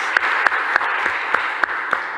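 Applause for nurses at a Mexico City government press conference: a steady bed of clapping punctuated by evenly spaced, sharper beats about three times per second, as if some hands keep a rhythm.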